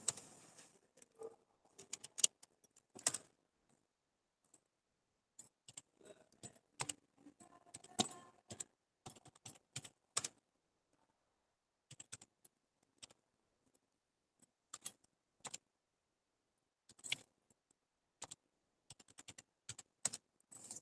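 Names being typed on a computer keyboard into an Excel sheet: sparse, quiet clusters of key clicks in short bursts separated by pauses in a quiet room.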